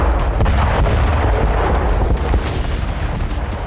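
A loud, rumbling missile explosion from a Russian cluster strike in Ukraine roars continuously, with dense crackling debris and low booming energy filling the whole moment.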